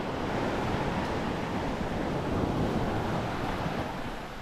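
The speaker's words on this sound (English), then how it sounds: "Strong currents, strong rip currents and wind currently" Strong wind and steady surf on a tropical beach at Relax Bay, Koh Lanta, Thailand, with rip currents offshore; a loud, continuous broadband roar of wind buffeting and breaking waves, with no voices.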